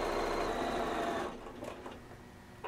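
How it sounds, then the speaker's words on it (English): A sewing machine runs fast while doing the final stitching on a quilted comforter top, a close, steady whirring hum that slows and stops after about a second, leaving faint handling clicks. "we will take this to the sewing machine for the final stitching."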